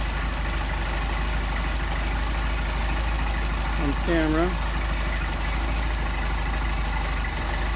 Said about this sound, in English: Gonna screw it in until the engine stumbles, screw it out until the engine stumbles, and get our best idle.